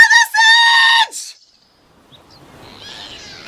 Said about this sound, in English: I'm stuck in a tree with a woman screaming.